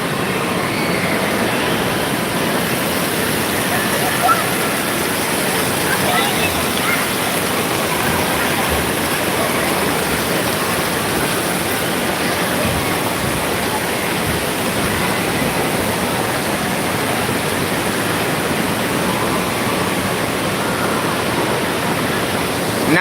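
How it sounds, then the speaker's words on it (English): A large volume of water pouring down and splashing, a loud, dense, steady rush like a waterfall that holds unbroken throughout. "That big old thing is gonna pour down and water's gonna go everywhere."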